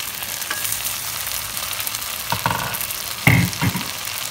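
Chili paneer with sauce and vegetables sizzles and fries in a pan, a steady close crackle broken by a few louder stirring clatters and pops.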